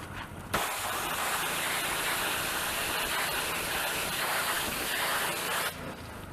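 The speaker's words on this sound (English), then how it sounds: "That is your motor degreasing and cleaning on something that really wasn't that dirty." Degreaser sprayed over a car motor in a steady, loud hiss that starts abruptly, holds unbroken for about five seconds, then cuts off, with no voices over it.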